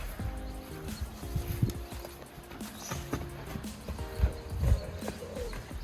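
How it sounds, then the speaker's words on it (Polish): Horse hooves clop unevenly on a hard floor amid low rumbling and faint tonal noises, moderately close with an indoor, barn-like feel. "Pan Leszek zabiera konia i za chwilę wypuścimy Simentale."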